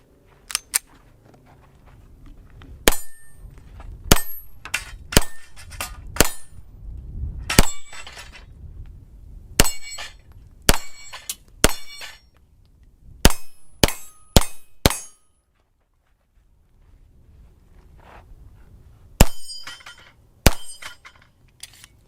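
A pistol fires a long, irregular string of sharp shots, each with a ringing metallic clang of steel targets being hit, loud and close, with a short pause before a few final shots.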